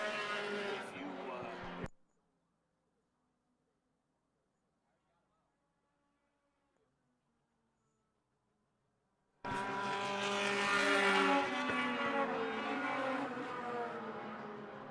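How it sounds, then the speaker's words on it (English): Race cars lap a track with loud, sustained engine roar, cutting out into near silence for several seconds before the roar returns at full strength, with commentators talking over it. "Couple of lapped cars allow David Cook to motor on by to continue to hold down third"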